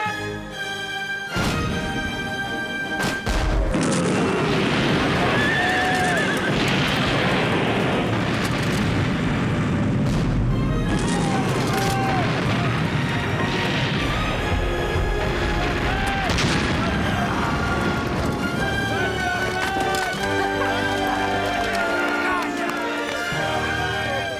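Broadside cannon fire from a sailing warship in a radio drama, with heavy booms and rumbling blasts layered over music and shouting voices, dense and loud throughout.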